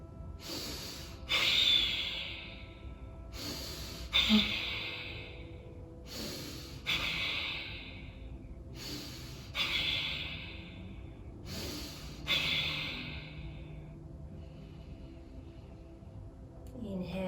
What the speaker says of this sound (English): cupping the hands onto the knees, normal breath through the nose